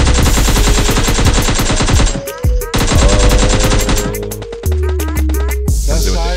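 AK rifle fire in PUBG, loud rapid automatic bursts crackling close by with brief gaps between strings of shots and a few single pops near the end.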